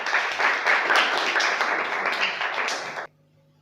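An audience claps together at a gathering as a guest is invited forward to be garlanded, a dense, full round of applause lasting about three seconds before cutting off abruptly into near silence.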